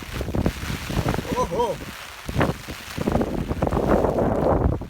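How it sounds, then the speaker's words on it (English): Strong wind gusts and rumbles against the microphone in rainy weather in Okinawa while a person exclaims briefly over it. "Wind's getting strong. It's picking up."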